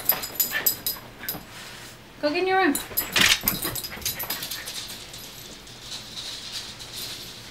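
A dog whimpers and yips in a home, a rising whine standing out over steady talk from a woman, with rustling and household noise around it.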